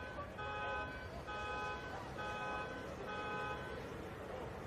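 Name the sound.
car alarm going off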